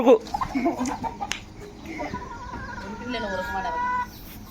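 Hens clucking nearby in short, choppy bursts, with a person speaking over the birds at times.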